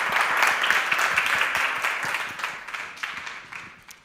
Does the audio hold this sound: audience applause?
yes